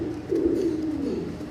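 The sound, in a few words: pigeons cooing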